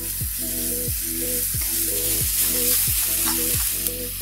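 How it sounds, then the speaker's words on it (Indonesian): Ground pepper, garlic, shallots and salt sautéing in oil, a steady close sizzle running throughout with a regular, repeating tonal rhythm beneath it, no voices. "Masukkan potongan bawang merah dan bawang putih, tumis sampai bumbu layu dan berubah warna dan berbau harum."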